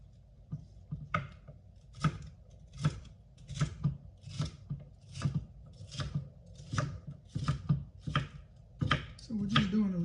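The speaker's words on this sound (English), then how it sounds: "We're just doing a loose chop." A knife chops ingredients for smoked BBQ beans on a cutting board in a loose, steady rhythm of about a dozen close, crisp strikes.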